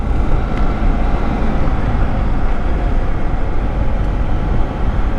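A motorcycle cruises at about 30 mph on fresh, smooth tarmac, a steady loud rush of wind and road roar with a low engine drone, continuous and unchanging throughout.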